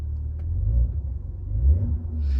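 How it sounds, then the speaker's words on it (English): Maserati Ghibli engine revving in ICE mode, a low, deep rumble that swells and rises briefly, fairly quiet and heard alone. "I'm not sure if you'll be able to hear it here, but I will just hit the gas on ICE mode."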